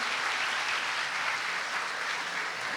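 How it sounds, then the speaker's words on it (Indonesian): A studio audience at a talk show applauds loudly and steadily, a dense wash of clapping that holds its level for the whole stretch without any voices. "memang tepuk tangan ini tepat"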